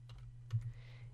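A few soft, quick keystrokes tap on a computer keyboard, faint and close, over a steady low electrical hum.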